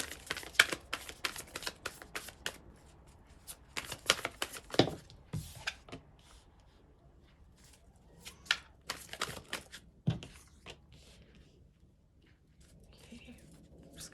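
Tarot cards shuffled by hand in quick, close riffling bursts, busy and crisp for the first half, then sparser flicks and taps that trail off as the deck settles.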